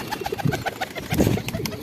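A Shahjahanpuri pigeon coos close by in a short burst of soft, low, rhythmic throaty calls.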